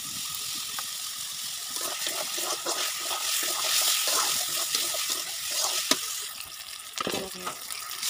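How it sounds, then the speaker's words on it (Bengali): Water poured into a cooking pot of frying vegetables makes a rushing, splashing flow close by, with a few utensil knocks and clatters near the end. "পানি দিলাম।"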